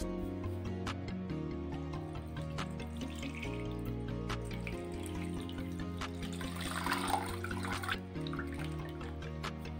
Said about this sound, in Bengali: ছানার জলটাকে আমি এইভাবে ছেঁকে নিলাম।